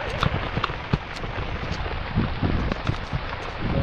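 Steady rain hisses close by, with scattered heavier drops and splashes tapping irregularly throughout.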